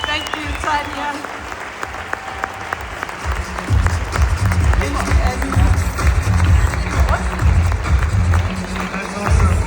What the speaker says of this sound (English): Please stand up and give a round of applause to these two phenomenal women.